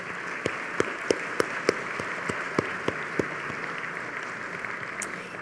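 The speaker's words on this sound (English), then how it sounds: "Please give these Platinum members a round of applause." Scattered, fairly sparse clapping from diners at a chamber of commerce annual dinner, distinct individual claps standing out over a low room hum, faint overall.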